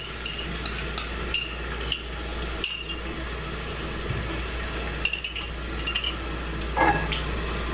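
Ginger garlic paste cooks in a pan for chicken dum biryani under a continuous sizzle, with a spoon scraping and clinking against the metal several times, close by.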